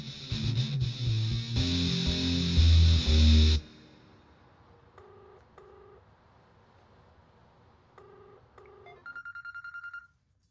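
A telephone rings during a scene in a Hindi-dubbed South Indian action film. Loud music fades out, then two pairs of short electronic ring bursts sound in a quiet room, followed by a rapid warbling tone.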